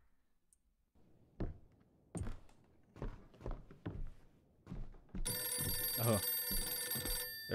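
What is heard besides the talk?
telephone ringing in video game Visage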